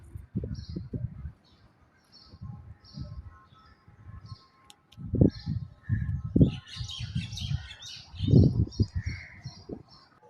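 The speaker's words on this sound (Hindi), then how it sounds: "आपको परिंदों की भी आवाज़ सुनाते हैं।" Small birds chirp and tweet now and then in a quiet housing society, their calls fairly faint behind low rumbling background noise that swells in uneven bursts.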